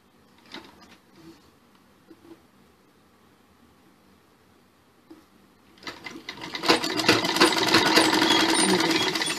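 A sewing machine stitches a blouse seam at half-inch intervals. A few faint mechanical taps come first, then the motor kicks in and runs loud and fast for the last few seconds, close by.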